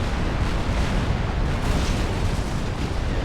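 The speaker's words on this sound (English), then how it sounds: "Quite big damage with artillery shells." Artillery shells bursting in the real-time strategy game Supreme Commander form a dense, continuous rumble of overlapping explosions, loud and steady throughout with no clear gaps and no voices.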